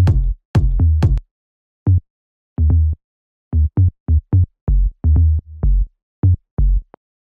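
A house remix bass line sampled from the original track plays as clipped, punchy low notes in an uneven repeating pattern, loud and dry with no voice over it.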